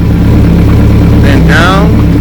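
A Kawasaki ZX14R motorcycle engine runs with a loud, dense, low rumble close by, rising and falling slightly as the pitch shifts, while a voice speaks over it.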